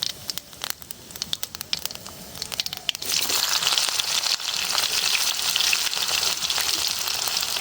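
Dry chili and cumin seeds hit hot oil with a sudden loud, steady crackling sizzle that starts partway through and continues close by, preceded by quieter kitchen clatter; no talking.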